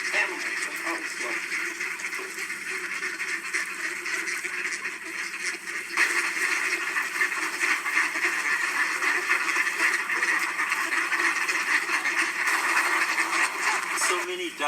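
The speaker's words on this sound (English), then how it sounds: "there's a good mix of boy ducks and girl ducks" A mixed flock of male and female ducks quacks steadily and fairly close, the calls running on over the full stretch under a constant outdoor hiss, busier and louder in the second half.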